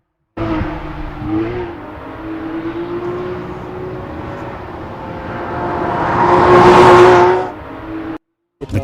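A Porsche 911 GT3 RS exhaust rumbles at idle, then builds into a loud, rising rev that peaks and cuts off sharply, followed by a brief restart.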